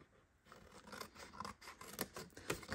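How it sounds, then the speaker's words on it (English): Scissors cut score lines into cardstock for a cloud-shaped treat box, giving a series of quiet, close raspy snips and scrapes in an irregular rhythm. "Cut your score lines on the short sides."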